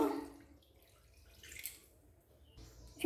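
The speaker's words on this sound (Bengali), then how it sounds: "এখানে আমি দু বাটি দুধ দিয়ে দিলাম" Milk poured into a kadai set on a gas stove for making malai, a faint liquid splash and trickle that comes and goes in a quiet kitchen.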